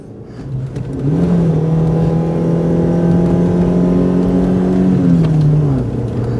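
A Proton race car at the Shelsley Walsh hill climb gives a loud, close engine roar that climbs quickly and holds a sustained high rev for several seconds before easing off, with no talking.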